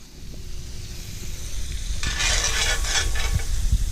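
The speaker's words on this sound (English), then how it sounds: "I'm gonna take that and throw that in that pan" Garlic hits a hot pan and breaks into a loud, steady sizzle that continues to the end, with small clinks of stirring underneath.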